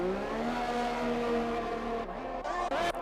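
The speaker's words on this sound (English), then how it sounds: "And away goes the Ferrari." Ferrari race car in an Xbox racing game at the Austria circuit, engine revving up as it drives off, a loud harmonic whine climbing steadily in pitch before shifting and cutting briefly near the end.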